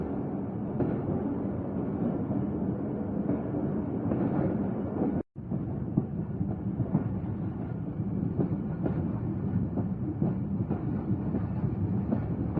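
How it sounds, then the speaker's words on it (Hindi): The Rehman Baba Express passenger train pulls out of Rawalpindi station, a steady loud rumble with rhythmic rail clatter and wind throughout, one brief dropout midway, no talk. "अब ये ट्रेन रावलपिंडी स्टेशन पर आधे घंटे का स्टॉप करने के बाद यहाँ से चलना स्टार्ट हो गई है।"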